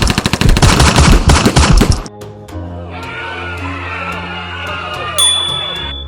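Rapid machine-gun fire as a sound effect, a loud, close burst of tightly spaced shots for about two seconds, followed by a sustained ringing, droning tone that swells slightly near the end.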